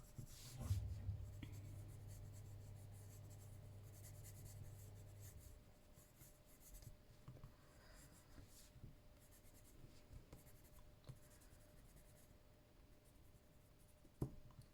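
Pencil drawing on paper: soft, continuous scratching and rubbing strokes, quiet and close, with brief pauses between strokes. A low steady hum sounds during the first few seconds, and a sharp tap comes near the end.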